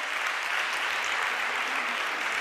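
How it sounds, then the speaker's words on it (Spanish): Dense, steady audience applause at a talk, loud and continuous from start to finish with no voice on top. "No aplaudáis"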